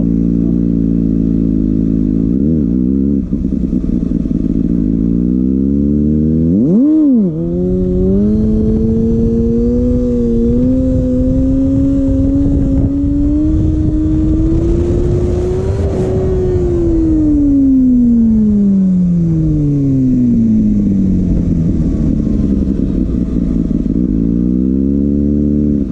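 Kawasaki ZX6R sport motorcycle engine heard close while riding, a loud steady drone that drops, then revs sharply and climbs, holds high, and winds back down.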